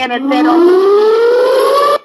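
A loud civil-defense-style siren tone sweeps steadily upward in pitch, continuous and close, with a brief burst of noise at the start and an abrupt cutoff at the end.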